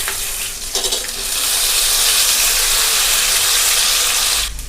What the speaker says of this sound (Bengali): যে আদা রসুন আর কাঁচা লঙ্কা বেটে গেছিলাম সেটা দিয়ে দেবো।